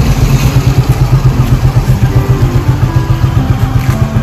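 A Yamaha Mio Gravis scooter engine fires up on a single press of the starter and settles into a loud, close, steady putter with a rapid rhythmic pulse.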